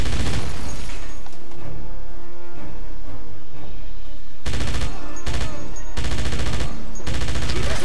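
An MG42 machine gun in Wolfenstein fires loud, sustained bursts, ending in several rapid choppy volleys that are close and dominant, with no talking.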